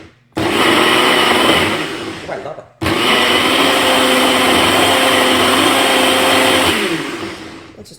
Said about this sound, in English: The Ninja blender is very easy.